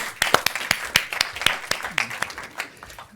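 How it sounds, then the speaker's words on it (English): Audience applause at a consumer panel session, a dense burst of clapping from a seated crowd that tapers off over a few seconds, fairly close and steady, with faint murmuring voices underneath. "another round of applause"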